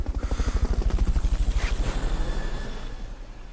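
Helicopter in the video game Metal Gear Solid Peace Walker, a loud rapid rotor chop pulsing evenly close by, then easing off toward the end.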